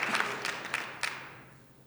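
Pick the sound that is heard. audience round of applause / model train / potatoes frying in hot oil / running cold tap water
audience round of applause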